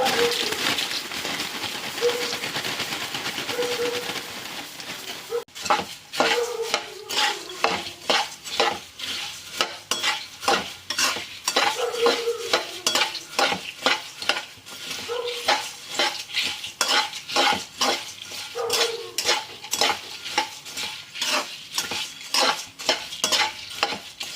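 Puffed rice with roasted gram and turmeric powder stirred in a hot pan: a steady rhythm of close scraping strokes over a soft sizzle, continuing alone.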